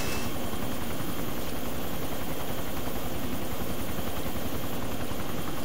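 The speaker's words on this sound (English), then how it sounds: "This is an awesome helicopter." A helicopter in a video game roars steadily and loudly throughout, its rotor chop and engine drone constant and close with no voices over it.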